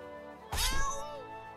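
A cartoon cat in South Park: The Stick of Truth lets out one sudden, loud, drawn-out meow with a wavering pitch, clear and close over a quiet game background.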